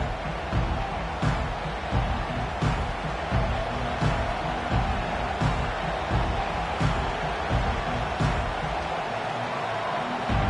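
A Virginia Tech Hokies stadium crowd roaring at a football game, a dense sustained wall of distant cheering and noise with rhythmic surges roughly every second and a half, under faint commentary.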